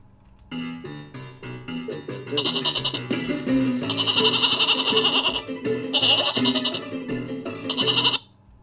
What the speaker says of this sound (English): Collision with the goat. Play sample goat.